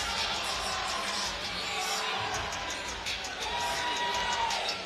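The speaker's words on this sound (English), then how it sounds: "They're not booing, they're chanting Stewie" A large crowd at a boxing event in the fighter's hometown roars in a dense, continuous wash of chanting and shouting, with a voice faintly audible underneath.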